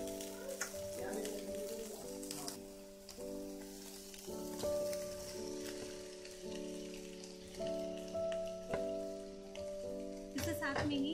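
Boiled potatoes lightly roast in a pan for a kachori filling, giving a steady close sizzle with faint stirring scrapes, under a sustained musical drone and a voice talking throughout.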